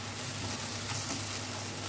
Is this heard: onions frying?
yes